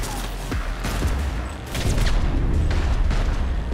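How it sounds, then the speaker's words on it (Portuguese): Heavy gunfire in Cyberpunk 2077, a rapid fusillade of booming shots and bursts that grows denser and louder toward the end, loud and close with no talk. "é muito tiro"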